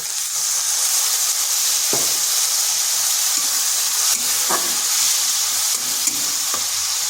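Water splashed into a hot frying pan holding egg and aubergine, a strong continuous sizzle and steam hiss with a few sharp stirring scrapes, close and steady with no talk.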